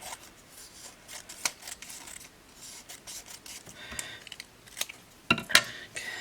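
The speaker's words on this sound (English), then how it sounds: "So I'll just cut this bottom part off." Scissors snip through paper for a mixed media art journal page, a series of soft, close cuts and rustles that end in a sharper final snip.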